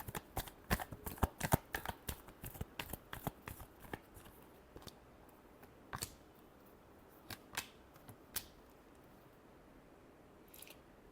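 Tarot cards being shuffled by hand, a quick run of crisp riffling clicks at first, then slowing into sparse separate snaps, close and quiet with no talking.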